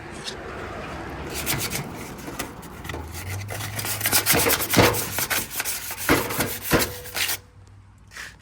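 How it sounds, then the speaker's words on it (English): Shiny engine bay parts being scuffed by hand before painting, a close, steady rasping rub in uneven strokes that grows louder and busier toward the end, then stops. "So we're just gonna scuff up the shiny stuff, really."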